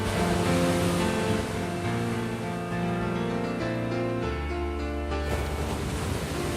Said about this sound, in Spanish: el mar está brillante y cristalino, con la tranquilidad de poder desconectar junto al sonido de las olas